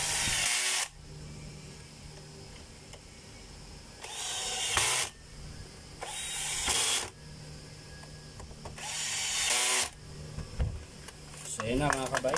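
Power driver bursts tightening screws on a Makita 4131 7-1/4 inch circular saw, four or five loud whirring runs of about a second each, separated by quieter pauses, close up, with a rattling clatter near the end.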